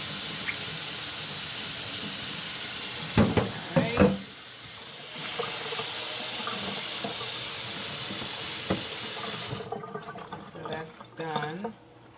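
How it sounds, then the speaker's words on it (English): Tap water runs steadily with a broad, close rush over raw chicken being rinsed, briefly interrupted, then stops near the end as a person speaks over quieter handling sounds. "This is my third time rinsing it off."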